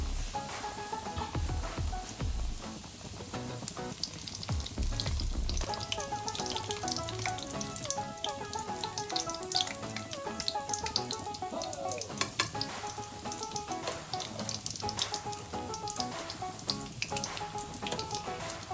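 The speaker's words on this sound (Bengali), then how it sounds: "একটা একটা করে ব্রেড। তিনটা করে আমি হচ্ছে ভেজে নেব।" Bread slices fry in vegetable oil in a pan over a low flame, giving a continuous soft sizzle and crackle with occasional louder spits and clinks throughout.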